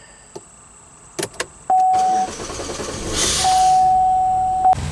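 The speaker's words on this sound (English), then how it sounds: "we'll start the car." A Chevy Malibu after a fuel filter change: a few sharp clicks and electronic chime tones from the car, then a rising whir as the engine cranks and starts.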